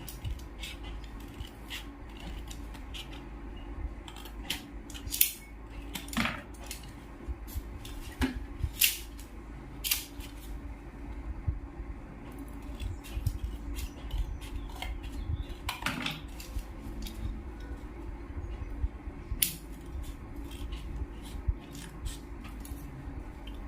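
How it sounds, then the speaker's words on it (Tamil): Small scissors snipping a sheet for a handmade transparent box, giving scattered close crisp cuts and light handling clatter at a quiet level. "குட்டி சிசர்னால நீட்டாக வர மாட்டேங்குது"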